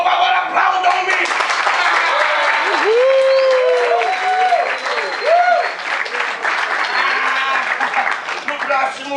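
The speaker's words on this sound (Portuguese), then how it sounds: "Por favor, aplaudam-me, por favor, aplaudam-me." A festival audience at a short-scene theatre performance during Virada Cultural breaks into sustained loud applause, clapping dense and continuous throughout, with whoops and voices rising over it.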